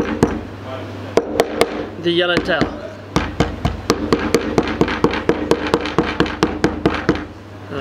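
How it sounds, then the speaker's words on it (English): A hammer taps repeatedly on frozen yellowtail bait, giving sharp knocks in uneven bursts that quicken into a steady run; someone speaks briefly near the start. "I'm going to take my chocker hammer"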